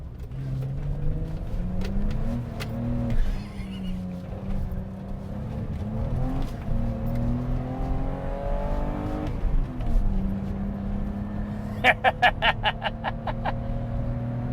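A 170-horsepower BMW 325i E30 with a limited-slip differential accelerates and revs hard, engine tone climbing and dropping through gears, loud and close, with sharp crackling pops near the end.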